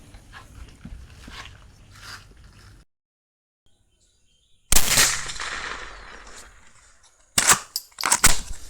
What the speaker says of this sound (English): the first thing we're going to do is take our first initial shot to see where we are on our target.